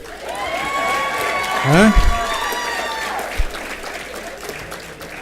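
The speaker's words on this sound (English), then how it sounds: "So how about a round of applause for my 2 bodyguards?" Audience applause at a company annual awards event, steady clapping that runs throughout under a speaking voice, with one brief interjection.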